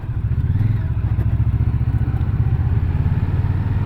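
An Indian Scout Bobber Twenty motorcycle riding in third gear, its engine a steady, loud, close low rumble with a rapid pulsing throb throughout and no talk over it.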